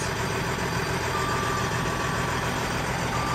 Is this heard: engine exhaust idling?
yes